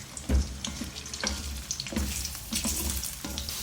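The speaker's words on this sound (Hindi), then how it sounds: "आलूओं को फ्राई करेंगे, हल्का सा कलर देना है आलू को" Potato pieces fry in hot oil for a Punjabi dhaba-style dum aloo, a close, busy sizzle with bubbling and occasional stirring knocks, no speech.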